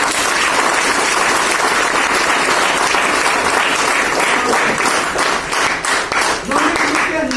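An indoor audience bursts into sustained, dense applause and clapping at a product presentation, loud and continuous throughout, with some voices mixed into the crowd noise.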